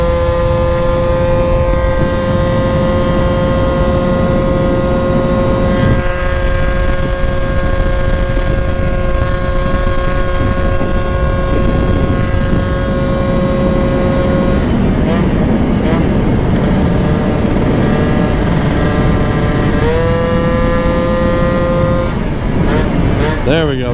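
Honda Elite AF16 scooter fitted with a smart carb rides along with a steady, loud engine drone, its pitch rising and falling with throttle changes, while a person talks over it.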